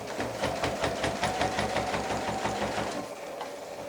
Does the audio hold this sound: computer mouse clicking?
no